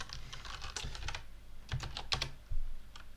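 Keys clatter on a computer keyboard during a programming lecture, irregular bursts of quick clicks with short pauses, moderately close and alone without speech.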